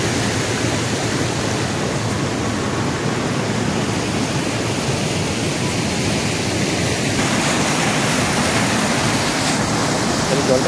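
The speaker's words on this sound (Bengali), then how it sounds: "জলটা কীভাবে পড়ছে দেখুন।" A waterfall swollen by the monsoon, heard as a loud, continuous broadband roar of rushing water that stays constant throughout.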